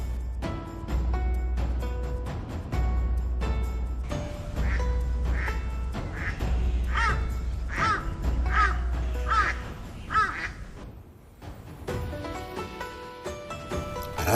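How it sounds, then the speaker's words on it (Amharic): Birds gather at a river inside Beijing Zoo, with repeated harsh caws and quacking calls in a steady series over a low constant rumble, fairly close and loud. "በመካነ እንስሳቱ ቅጥር ግቢ የሚገኘው ወንዝ የአዋፍ መጠጊያ ሆኗል"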